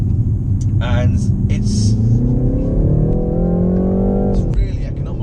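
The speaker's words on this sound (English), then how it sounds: "If I put it into sport now, just do a kick down, it's not slow." A 2019 BMW 330i G20 with a 260 hp engine in sport mode accelerates hard on kick-down, its engine note rising steadily and loudly over several seconds before easing, while someone talks over it.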